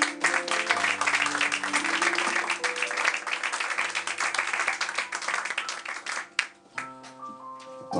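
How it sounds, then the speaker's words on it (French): An audience at a World Poetry Day performance breaks into warm, sustained applause, many hands clapping densely at once, with soft music tones lingering underneath before the clapping thins out near the end. "on les applaudit mesdames et messieurs"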